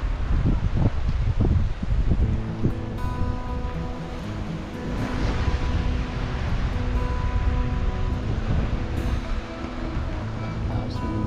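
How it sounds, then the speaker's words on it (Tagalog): Steady sea breeze at a coastal spot beside a lagoon during a barangay fiesta, wind buffeting the microphone with a broad rushing hiss, while distant music and voices drift faintly underneath. "Sarap ng simoy ng hangin guys."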